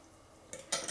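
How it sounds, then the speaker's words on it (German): A spoon stirs sugar and vinegar into hot water in a bowl, making a few brief close clinks and scrapes against the bowl over a quiet kitchen background. "Umrühren"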